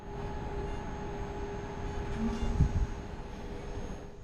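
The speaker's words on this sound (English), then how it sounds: "locomotive is attached to the rear of the train where it will now push us along" Steady rumbling of a Swiss Golden Pass Express train pushed by a rear locomotive, rolling along the tracks, with a constant low hum and a brief clatter partway through.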